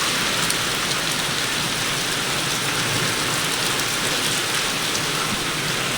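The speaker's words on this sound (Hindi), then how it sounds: "ज़्यादा लग रही है बारिश।" Heavy rain pours during a storm in Islamabad, a loud, unbroken roar of water on surfaces that stays steady and close the whole time, with no talking.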